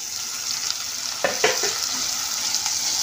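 Tomatoes and chillies fry in a pan with fried onion, a dense steady sizzle close by, with a short run of spatula scrapes near the middle.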